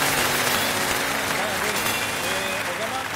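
A studio audience applauds as three performers come on stage for an improv sound-effects game, a steady dense wash of clapping at close range with faint voices mixed in.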